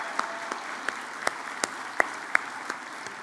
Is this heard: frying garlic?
no